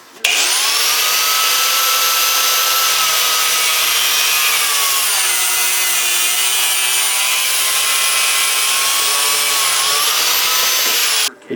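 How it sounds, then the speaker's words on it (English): A cutoff wheel slices through braided steel power steering hose with a loud, sustained high whine that spins up, holds steady for about ten seconds, then winds down. "I've seen some people use a cutoff wheel, which seems to work pretty good, so that's what I'm going to use."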